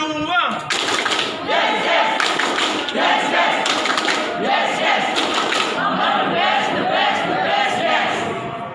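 Loud, close crowd at a Lampung Barat Paskibraka 2020 award ceremony doing a rhythmic spirit clap with chanting, steady for several seconds before easing slightly at the end.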